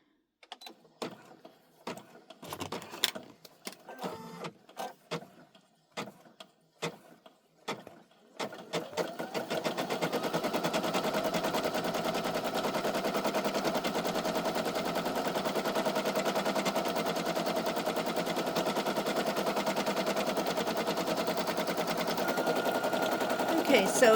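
A Brother SE1900 embroidery machine stitches out a patch, its fast steady mechanical chatter starting after a few scattered clicks and bumps and then running loud and continuous to the end, with a faint voice early on.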